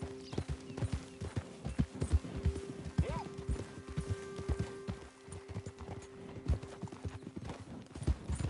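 Hooves of a horse in Red Dead Redemption 2 on PS4 thud in a quick steady rhythm, close and clear, with a brief whinny midway; a voice speaks lightly over the galloping.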